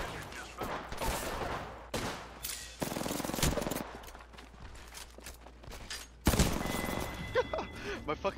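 Gunfire in the video game Apex Legends: sustained bursts of rapid automatic fire, loud and close, broken by short pauses, with a few sharper single shots layered in.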